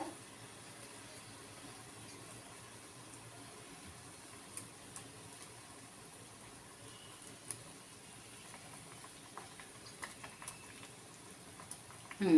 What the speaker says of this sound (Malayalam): പനീർ മസാല ഇവിടെ തിളച്ചുകൊണ്ടിരിക്കുകയാണ് കേട്ടോ